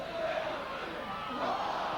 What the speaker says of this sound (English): The crowd get behind them, the home crowd, more or less for the first time in this match.